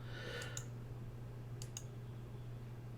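Two quick pairs of computer mouse clicks, crisp and close, sound in a quiet room while a lens profile is switched on in Lightroom, with a steady low hum underneath.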